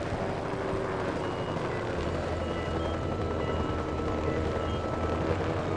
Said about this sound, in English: The beep beep beep sound